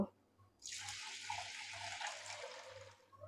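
Water pours steadily into a pot of washed masoor lentils, a close hissing splash lasting about two and a half seconds before tapering off, with a faint low hum underneath.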